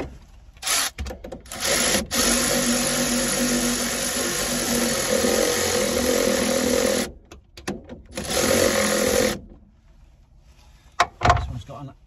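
A power tool whizzes down the rear suspension top mount nut on a BMW E82 1 Series coupe fitted with a Bilstein B12 kit, heard as two long, close whirring runs separated by short pauses and clicks.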